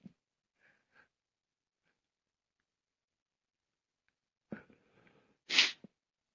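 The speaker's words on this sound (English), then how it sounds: "Trying to stifle a sneeze here." A quiet room, then a short sharp breath followed by a muffled, held-back sneeze near the end.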